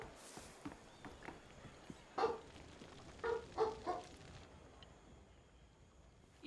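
A dog aboard in the pirate game Skull and Bones gives four short barks: one alone, then a quick cluster of three. They sound fairly faint over quiet ambience, with light taps and footsteps around them.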